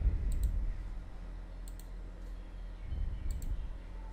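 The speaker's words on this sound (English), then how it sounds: "So just double click it to extract this zip file." A computer mouse on a Windows PC is double-clicked to extract a zip file, three quick crisp pairs of clicks sounding close and small over a faint background hum.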